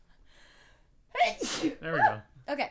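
A single sharp human sneeze bursts out close to the microphone after a quiet pause, followed by brief spoken words.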